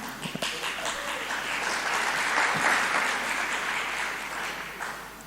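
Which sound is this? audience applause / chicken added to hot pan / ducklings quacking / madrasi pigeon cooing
audience applause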